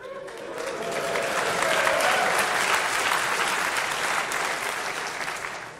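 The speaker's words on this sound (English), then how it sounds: "I had no idea that was an applause cue." Steady, loud applause from a conference audience following a remark in a talk, a dense wash of clapping sustained for several seconds without a break.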